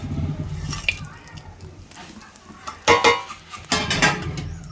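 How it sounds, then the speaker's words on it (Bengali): Whole garam masala dropped into a small amount of hot oil in a pan for an Australian-style meat dish, with metal clatter of a spoon and pan and a few sharp sizzling bursts up close. "দিয়ে দেবো গোটা গরম মশলা"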